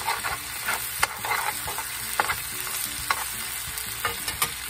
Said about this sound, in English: And let's cook it on medium for about another 7 to 8 minutes.